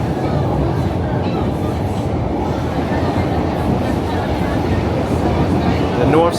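Boston MBTA subway train rolling underground beneath the Charles River, a loud continuous rumble and rattle of wheels on track with faint squeals near the end.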